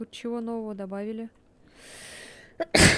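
A single sharp sneeze bursts out near the end, close and loud, right after a person speaks in Russian during a co-op stream of the horror game Ghost Watchers.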